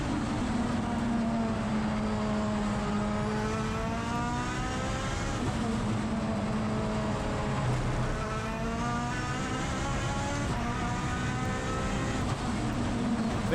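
The billet Mitsubishi 4G63 engine of the Tilted Evo four-wheel-drive race car revs hard through a lap, climbing and dropping in pitch through gear changes, loud and steady with the engine alone.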